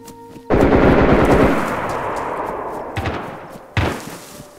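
Loud bursts of game gunfire from an AK-12-style shooter session, a heavy rapid volley opening, then two sharper isolated shots later, with a faint voice at times.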